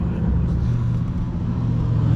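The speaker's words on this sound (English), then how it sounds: "Loud ass Camaro driving by" A loud Camaro engine rumbles steadily nearby, a deep continuous growl as the car drives past.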